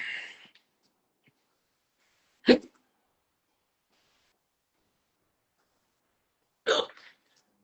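Hiccups from a nearby person, three sharp, isolated bursts spaced a few seconds apart, with near silence between them.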